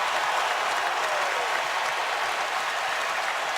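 A Syracuse basketball arena crowd roars and cheers steadily throughout during a college game against North Carolina, a dense, continuous wash of noise with no pauses.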